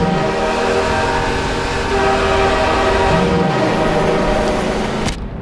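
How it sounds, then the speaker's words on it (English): A train in Half-Life 2 rumbles close past a highway bridge, with loud grinding wheels and a long blaring horn over it, then cutting off abruptly near the end. "As we come over this bridge, we're going to be greeted with a train."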